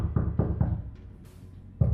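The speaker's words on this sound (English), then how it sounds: "I was awakened the following morning by someone violently pounding on my door." Heavy fists pounding violently on a door: three hard, evenly spaced thuds, a pause, then another blow, loud and close.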